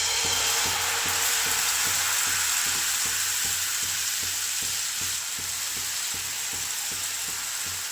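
Steady, loud sizzling of jowar (sorghum) flour batter spread on a hot griddle, a continuous crackling hiss with faint rhythmic scraping underneath.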